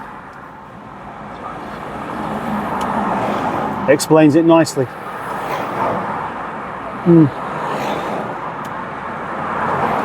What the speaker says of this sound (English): So all day, this has been the traffic situation.